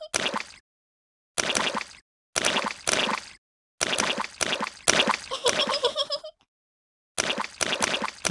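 Repeated bursts of messy splashing, like feet stomping in muddy puddles, come in quick groups separated by short silences.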